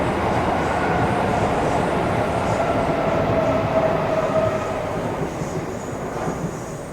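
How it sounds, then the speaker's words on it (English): Train rumbling past in Chiswick, a dense, continuous roar that holds steady and then slowly eases off, with a plane overhead faintly mixed in. "the plane's going over and a train going past"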